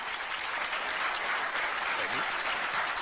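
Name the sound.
audience applauding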